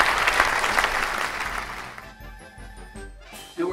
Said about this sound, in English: let's give Fellina Gomez a big round of applause